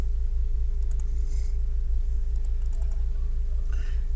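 Keys clicking on a computer keyboard while code for an Arduino LED sketch is entered, soft scattered taps in a few short bursts over a steady low hum.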